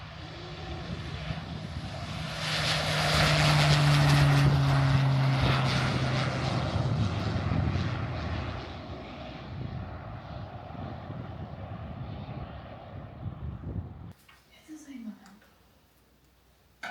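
A light propeller airplane's engine drones steadily, swelling louder for a few seconds before settling. It cuts off near the end, leaving faint clicks and soft voices.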